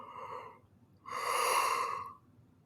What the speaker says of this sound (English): I'm going to take a yawn break